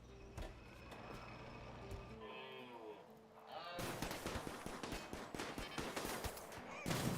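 Gunfire in the Rimworld video game striking a shield, a dense rattling volley of rapid shots that starts partway through after quieter game sounds and continues to the end, with a few voice fragments underneath.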